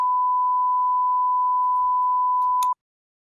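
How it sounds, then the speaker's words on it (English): A censor bleep, a steady pure electronic tone, sounds alone and loud for nearly three seconds, then cuts off abruptly, leaving silence. "Editor, bleep this out."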